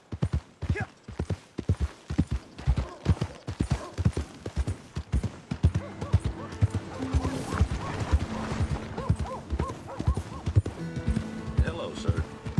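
Horse hooves clip-clop in the video game Red Dead Redemption 2, a rhythmic series of fairly close hoofbeats with a whinny and game music, while someone talks over them.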